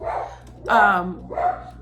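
A dog barks nearby in a couple of sharp, loud yaps, the middle one strongest, with a low hum underneath.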